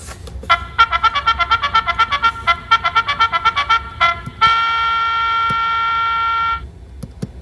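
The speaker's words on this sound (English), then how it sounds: "like that trumpet sound" A brassy trumpet-like effect from a CareTech ZeitGeist clock blares a quick run of short staccato toots, then holds one long loud note before cutting off.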